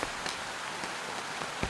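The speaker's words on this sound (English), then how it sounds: "I'm gonna let it calm down raining a bit." Heavy rain pattering steadily on a tent and surroundings at a riverside campsite, a dense continuous hiss with occasional louder drops.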